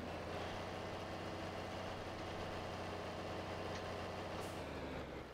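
A tractor engine in a video game idles and rumbles while reversing, a steady low drone with a faint hiss of air near the end.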